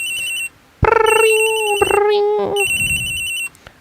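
A ringing telephone in the Phoenix Wright Ace Attorney video game gives two loud bursts of electronic trilling separated by a short gap, with a brief chime between them.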